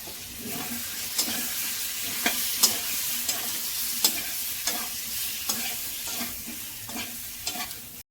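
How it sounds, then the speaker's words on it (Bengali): Cauliflower being sautéed in a pan with ginger paste, turmeric and cumin powder, giving a steady close sizzle broken by regular scraping stirs of a spoon, with no talking. "আদা পেস্ট, হলুদ দিয়ে একবারে এগুলো দিয়ে কষাবো।"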